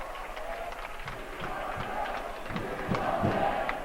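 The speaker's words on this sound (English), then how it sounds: "The Northeastern fans, they want somebody to come out. Zane LaMountain, they're cheering for him." High school boys basketball fans in a gym cheering and chanting for a player, a lively mass of voices with rhythmic shouts and some clapping, rising slightly toward the end.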